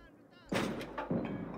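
Gunfire in the World War II game Call to Arms Gates of Hell during a Finnish conquest battle, two loud sharp reports about half a second apart, each with a rumbling tail, close and dominant.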